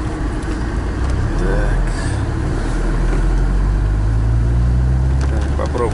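Alfa Romeo 164 car pulls in second gear with the clutch being slipped, a steady low engine drone heard from inside, with someone speaking briefly over it.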